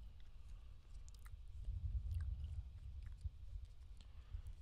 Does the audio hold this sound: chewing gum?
yes